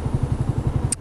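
A Yamaha R125 motorcycle fitted with a Scorpion exhaust idles with a quick, even throb of pulses, loud and close, ending in a brief sharp high-pitched squeak.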